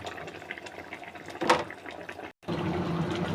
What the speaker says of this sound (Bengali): আমি মাছগুলো ছেড়ে দিচ্ছি।